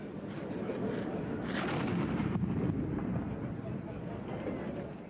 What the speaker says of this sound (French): Un dernier coup de canon marque la fin de la cérémonie du faux départ.